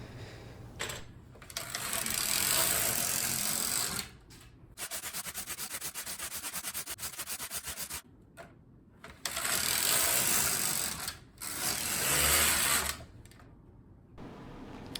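Knitting machine carriage swept back and forth in long passes, each knitting a row with a loud rasping, clattering whir, separated by short pauses as it reverses direction, close up with no talking.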